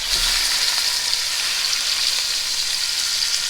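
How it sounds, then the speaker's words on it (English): A seasoned roast sears in melted grease inside a roasting pan, giving a loud, continuous hiss and crackle of frying fat that holds steady throughout, close by and with no talking. "I'm going to sear it about 2 or 3 minutes on each side."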